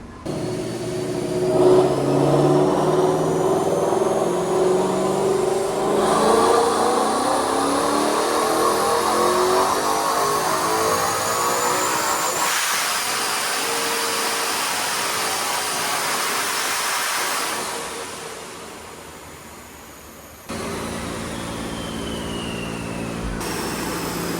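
A supercharged Ford Mustang revs hard on a dyno, its engine rising in a long loud sweep with a whining pitch climb, then cutting off abruptly before a steady mechanical drone resumes.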